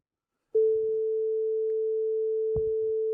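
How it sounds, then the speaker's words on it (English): A steady, pure electronic tone hums continuously at one pitch, starting abruptly and holding unchanged, with a faint click or bump partway through. "We've got our sine waves."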